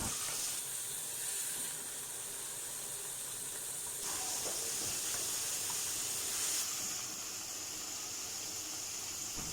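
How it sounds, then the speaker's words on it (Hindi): Chicken mince fries in a pan over a high flame, giving a steady close hiss and sizzle with a few bursts of louder crackle, continuous and without voices. "तो चिकन मिन्स मैंने ऐड किया है और अब मैं इसको हाई फ्लेम के ऊपर फ्राई कर रही हूँ।"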